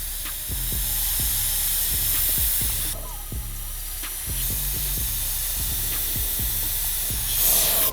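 An airbrush loaded with bleach paint hisses continuously up close, a steady spray with faint ticking clicks of the trigger being pulled back repeatedly for splattering.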